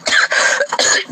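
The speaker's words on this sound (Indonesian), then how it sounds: "aduh batuk" A man clears his throat and coughs during a religious discussion, a short burst of two or three harsh, close, loud rasps.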